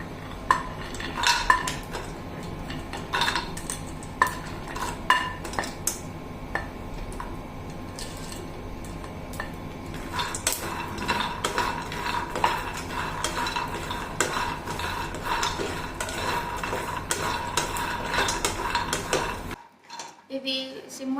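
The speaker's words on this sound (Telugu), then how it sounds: "ఇవి సిమ్లోనే చాలా రోస్ట్గా ఫ్రై చేసుకోవాలి." Groundnuts and cashews dry-roasting in a pan over low heat, giving a continuous rattle of nuts shifting with frequent clinks and scrapes of a spatula on metal, close and busy, then fading abruptly near the end.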